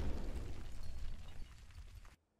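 A car blows up in the video game Madness Project Nexus, a dense low rumbling blast that rolls on for about two seconds, then cuts off abruptly into silence.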